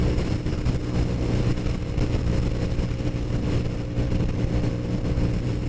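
A Honda Super Cub 125 engine held under throttle while losing speed on a ride, a steady loud low drone with rumble and wind noise and no clear change in pitch.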